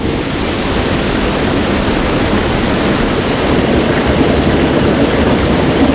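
A fast-flowing river at Desa Pelakat roars continuously, loud and close, with a dense, unbroken rushing wash and no voices.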